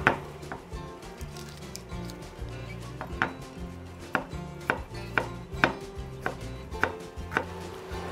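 A knife chops deseeded tomatoes on a cutting board, with steady, crisp strikes in an uneven rhythm, close and fairly loud, over a faint background hum.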